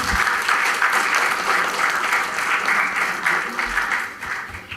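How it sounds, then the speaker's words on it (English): At an HR conference panel session, the audience claps in a sustained, even burst of applause that fills the room from start to finish, steady and moderately loud. "Please, audience, give them a big round of applause."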